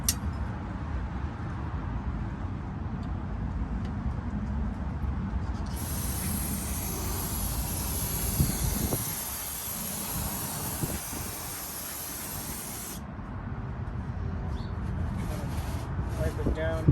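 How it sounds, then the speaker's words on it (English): Brake cleaner hisses steadily from an aerosol can onto the oil pan mating surface of a Honda Civic, a broad continuous spray lasting several seconds at close range amid workshop background noise. "We'll go ahead and use some brake cleaner."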